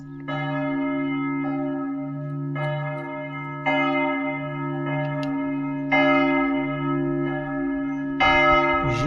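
Church bells in Romania's Maramureș region peal in overlapping rhythmic strikes, sustained tolls ringing steadily and fairly loud with fresh strikes joining every second or so, bells sounding from several directions.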